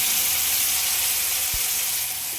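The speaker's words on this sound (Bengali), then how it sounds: "রসুনগুলো এবার লাল হয়ে এসছে, এবার পালং শাকটা দিয়ে দিলাম" Spinach hitting garlic that has turned red in hot mustard oil in a wok, giving a loud, continuous hiss of frying that stays close and even, with one brief low thump midway.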